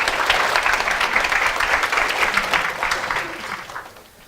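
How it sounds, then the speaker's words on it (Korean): Audience applause at a Korean developer conference before a talk on building web crawlers, dense and steady clapping from a seated crowd that holds for about three seconds and then fades away. "큰 박수 해주시면 바로 시작하겠습니다."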